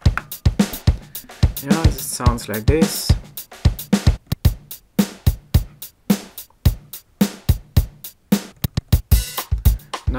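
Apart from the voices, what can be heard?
standard drum rhythm from Zoom A1 Four rhythm section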